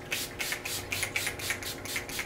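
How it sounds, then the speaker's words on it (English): Urban Decay All Nighter setting spray misted from a pump bottle in a quick run of about eight short, even, hissing spritzes, close and fairly loud, with no talking. "I'm gonna go in with the Urban Decay All Nighter Setting Spray"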